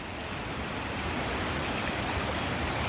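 Steady, loud rush of river water flowing continuously near a resort cottage, a broad unbroken wash of sound with no voices.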